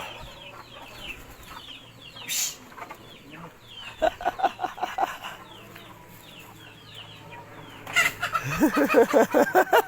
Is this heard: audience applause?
no